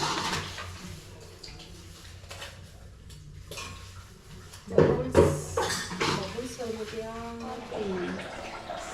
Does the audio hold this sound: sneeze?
no